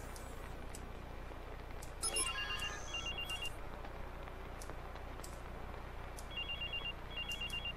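A telephone rings in the Watch Dogs video game, giving two bursts of electronic ringtone pulses a few seconds apart over quiet ambient game sound.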